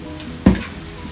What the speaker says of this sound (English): Then just try to stir and saute everything together.